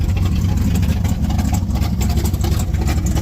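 A 1985 Chevrolet K20 truck engine running, a loud, steady, close low rumble that holds constant throughout with no talking.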